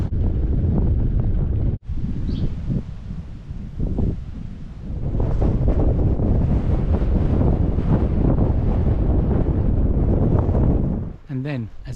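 Strong wind buffets the microphone outdoors on the South Downs near Devil's Dyke, a loud, steady roar that runs almost without pause, dipping only briefly before rising again and fading near the end.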